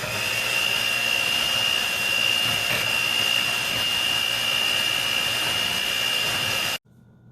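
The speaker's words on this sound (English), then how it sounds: "I'm going to simply give them a couple quick pulses with the hand mixer" A hand mixer whirs continuously at a steady high pitch for several seconds while mashing bananas for banana bread batter, then cuts off abruptly.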